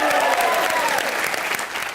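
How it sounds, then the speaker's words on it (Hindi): Studio audience applause on a television comedy show, a loud dense burst of many people clapping together, steady and close, with a faint voice briefly mixed in early on. "जोरदार तालियां"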